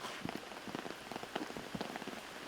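Steady rain falls on an outdoor disc golf course during a tournament round, a dense close patter of drops with scattered louder splats, continuous throughout with no talk.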